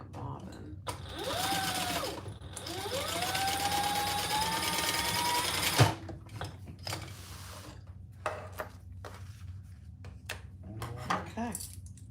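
A home sewing machine stitches in two long, loud whirring runs with a rising motor pitch, then falls quiet, leaving scattered handling clicks and rustles while someone talks nearby.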